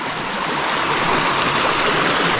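A flooded river after heavy overnight rain rushes and roars in a loud, unbroken wash of water, close and constant with no voices.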